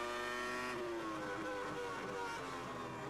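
A Formula 1 car engine at the 2002 German Grand Prix whines at fairly low revs, changing up early, its pitch rising and shifting through gears, loud and continuous with no other sounds.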